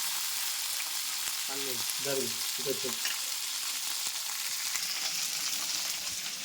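Chicken fries in oil in a pan with a steady, close hiss and crackle throughout, and a brief voice sounds over the sizzle early on.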